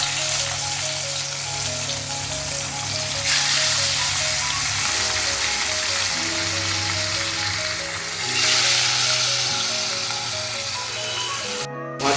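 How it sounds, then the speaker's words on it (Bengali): Pomfret fish frying in mustard oil in a frying pan, a loud, continuous close sizzle like heavy rain with steady tonal hum beneath and swells in intensity, no speech. "এবার আমি এতে মাছগুলো দিয়ে দেবো ভাজার জন্য।"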